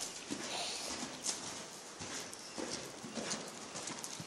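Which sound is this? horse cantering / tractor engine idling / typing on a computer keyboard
horse cantering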